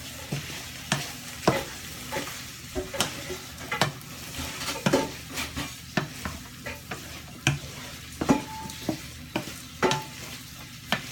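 Chorizo sizzling in a pan for mushroom and chorizo risotto, with a steady frying hiss broken by repeated close clacks and scrapes of stirring at an irregular rhythm.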